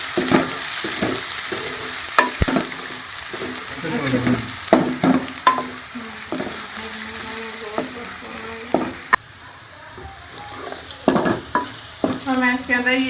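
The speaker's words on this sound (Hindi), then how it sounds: "लहसुन अदरक का पेस्ट डाल दूंगी और उसको भी 1 से 2 मिनट के लिए मैं फ्राई कर लूँगी" Garlic-ginger paste frying in a hot pan for beef salan, with a steady sizzle and repeated scraping, stirring clicks throughout, no voices.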